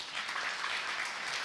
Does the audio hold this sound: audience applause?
yes